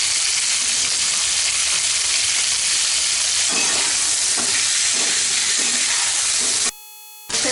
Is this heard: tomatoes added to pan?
yes